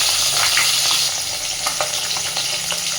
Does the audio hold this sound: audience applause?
no